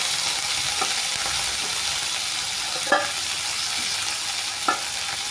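Potatoes frying with black cumin and onion in a home kitchen pan, a continuous close hiss of sizzling oil with a few sharp spatula clinks and stirs.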